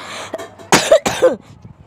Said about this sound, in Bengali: খুব কাশি আমার